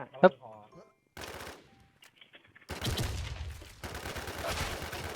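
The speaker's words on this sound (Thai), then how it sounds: "ทำไมมันยิงกูเจ็บจังอ่ะ" Automatic gunfire in a shooter video game, with a sharp burst at the start, then rapid sustained machine-gun fire that grows denser and louder toward the end, mixed with game sounds.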